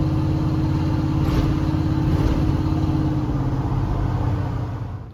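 A 1965 Chevrolet C10 pickup truck runs and drives with a loud, steady engine rumble close by, a continuous low drone throughout that eases off slightly at the end.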